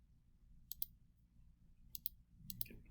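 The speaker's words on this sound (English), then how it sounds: "So I will just start by typing this into my calculator." Calculator keys pressed in three quick pairs of faint, sharp clicks, spaced about a second apart over a low room hum, with no talking.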